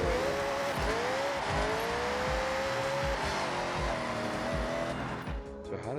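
A 1979 Chevy Camaro drifts in a racing game, its engine roaring steadily while the tires squeal in long, rising whines over repeated low thumps, then fading near the end.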